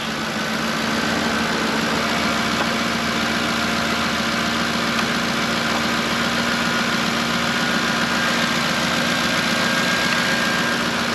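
A car engine idles steadily and loudly up close with the alternator disconnected, a constant droning hum with a faint whine and vibration, no voices over it.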